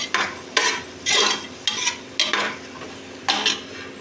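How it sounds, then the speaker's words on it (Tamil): Onions being stirred and fried in a pan, with bursts of scraping and sizzling at a steady, uneven rhythm, close and fairly loud, with no voices. "நல்லா மிக்ஸ் பண்ணிக்கலாம். நல்லா வெங்காயம் வணங்கி வரட்டும்."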